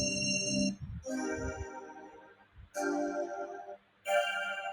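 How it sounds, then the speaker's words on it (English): Bright, ringing chime-like tones from a bell sound effect being tried for a snake game, four separate struck tones with harmonic overtones decaying between hits, close and clear with no talking. "You can try the bell sound."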